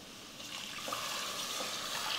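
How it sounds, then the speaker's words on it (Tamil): Water poured into a pressure cooker holding soaked basmati rice, a steady broadband pouring rush that builds slightly over about two seconds, close and alone without talk. "இப்போ தண்ணி சேர்த்துக்கலாம்"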